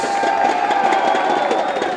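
Esports fans at a CS:GO grand final cheer for Astralis, a dense, steady wash of crowd noise and shouts filling the arena, loud and continuous.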